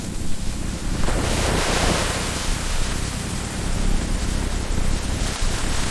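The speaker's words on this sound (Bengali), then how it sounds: "সবাই শোনো, বৃষ্টি খুব জোরে হচ্ছে।" Heavy rain as a cartoon sound effect in a children's story about ants: a loud, dense, continuous hiss of downpour that fills the whole stretch without pause.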